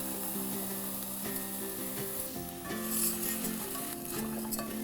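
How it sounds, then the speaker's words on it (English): Arborio rice being stirred into melted butter in a pan for risotto, a soft scraping and shuffling of grains with a light sizzle underneath, close and continuous, plus a few faint tonal hums in the background. "now I'm stirring it to coat every single grain with a little bit of fat from that butter"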